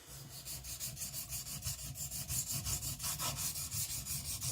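A kiridashi knife blade is rubbed steadily against a sharpening stone with light pressure, removing metal; a close, rhythmic rasping scrape repeats in even back-and-forth strokes with no talking.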